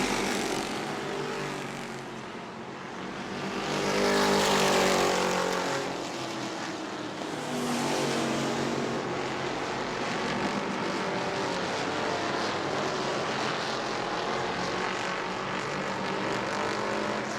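Race cars roaring around the New Smyrna speedway oval, a loud continuous engine drone that swells as the pack passes close and then holds steady.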